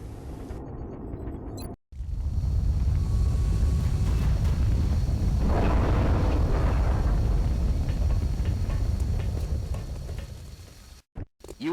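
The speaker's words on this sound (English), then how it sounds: "caught in an explosion that decimated a nearby bridge" Explosion tearing apart a bridge in the video game XCOM: Enemy Within, a sustained roaring rumble with heavy low-end that swells and lingers for about ten seconds before cutting off abruptly.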